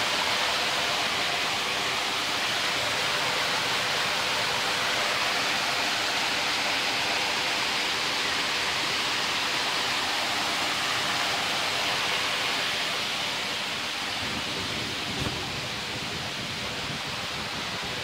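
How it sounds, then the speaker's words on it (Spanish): Steady rushing water from a waterfall or stream at El Tuncaj in Granados, Baja Verapaz, a dense, continuous wash of noise that fills the whole stretch without pause, close and even, with no voices. "Agua por todos lados"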